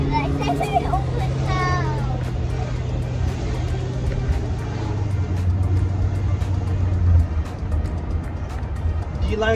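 A car engine hums steadily underneath as children chatter and call out close by.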